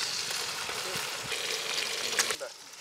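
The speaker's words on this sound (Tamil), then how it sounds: "அடுத்தது வந்து ஈரல் போட்டுக்கலாங்க." Egg liver (fish roe) fries in a pan with onion, tomato and ginger-garlic paste, sizzling steadily up close with a few stirring scrapes, while a voice talks over it.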